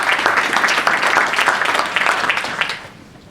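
An audience at an informational public forum on a single-use plastic bag ban breaks into a short burst of dense applause that fills the room for about three seconds, then fades away.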